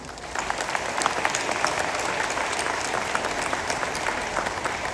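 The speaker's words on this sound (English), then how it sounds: "And we also want to give special applause to the top 8 persons from both the day and evening divisions." Steady applause from a graduation audience at an ecumenical high school ceremony, honoring the top eight graduates of the day and evening divisions; dense, continuous clapping of a large crowd that holds evenly at a moderate level throughout.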